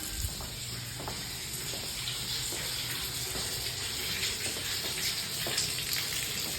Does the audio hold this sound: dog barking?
no